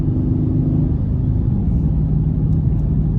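A 2020 Dodge Charger Scat Pack on stock all-season Goodyear 245 tires gives a steady, loud, low engine rumble throughout, a dense drone with no clear rev changes.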